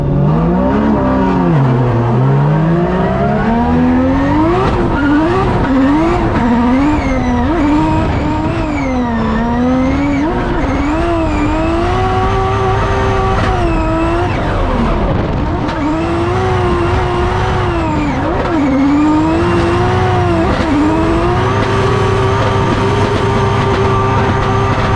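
Drift cars in a Formula Drift chase run at FD Texas Round 5 roar continuously at full throttle, engines wailing and rising and falling through gear changes, loud and close for the whole stretch.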